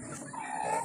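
Roosters on a farm give a brief, close cluck against a steady background murmur.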